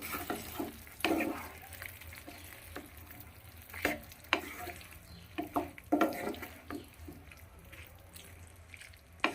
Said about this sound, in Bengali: করে সব কিছু মশলার সঙ্গে কষিয়ে নেব